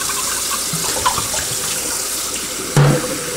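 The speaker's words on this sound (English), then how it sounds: "Fill that up with water." Water runs from a tap into a hookah base being cleaned, a steady splashing trickle with a brief louder gush near the end.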